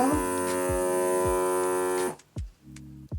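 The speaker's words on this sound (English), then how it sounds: "maybe that's that thing rolling across there to seal it" A vacuum sealer sealing a bag gives a droning motor hum with soft rhythmic thumps for two seconds, then stops abruptly, followed by a few clicks and a brief lower hum.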